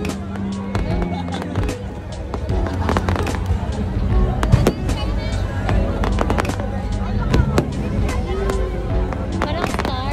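Fireworks at an Independence Day celebration burst in rapid, irregular booms and crackles, some heavy and near, over constant crowd chatter and nearby voices talking.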